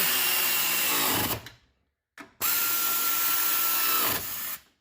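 A power tool tightens the coilover on a 1991 Nissan Skyline R32, running in two loud, sustained bursts with a short pause and a brief blip between them.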